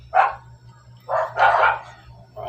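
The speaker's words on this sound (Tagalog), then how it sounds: "Maraming aso dito" Several dogs bark in bursts nearby in a motorcycle repair setting, three or four loud barks spread over a couple of seconds with a low steady hum beneath.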